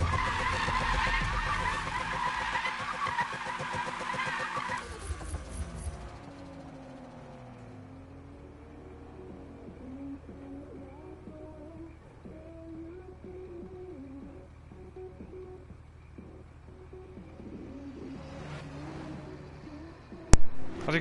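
Racing cars in Need for Speed: a loud engine roar and tire skid that fade into softer whining engines and sliding tires from cars pulling away, then a sharp impact near the end.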